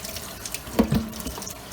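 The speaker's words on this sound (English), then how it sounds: "Get your water in there. If you got one of these spray nozzles, it's good to use." Water sprayed from a spray nozzle onto a Blackstone E Series griddle during cleaning, a soft hissing spray with a couple of brief louder splashes in the middle, fairly close and heard alone.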